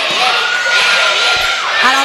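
Crowd at a youth ball game tournament semifinal cheering and shouting loudly, with children's voices and whoops rising over a steady roar, close and continuous.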